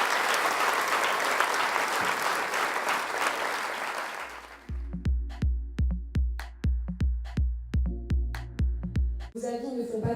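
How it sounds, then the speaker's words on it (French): Dense audience applause at a conference with football pundit Pierre Ménès, loud and sustained for about four seconds, then cut off by a series of regular percussive musical hits. "je pense qu'on peut encore une fois vous applaudir pour ça"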